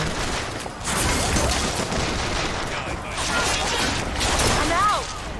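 Dense rapid gunfire in Bioshock Infinite crackles continuously through a frantic firefight, with impacts and clatter layered underneath while players talk over the shooting.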